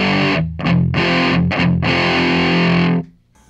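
Electric guitar played through a distortion pedal built on a breadboard, loud fuzzy sustained chords cut by two brief gaps, then an abrupt stop leaving a faint hum.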